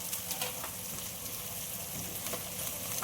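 Aubergine sautés in a pan with turmeric, coriander, cumin and red chilli powder, giving a steady, soft frying hiss with faint stirring scrapes throughout.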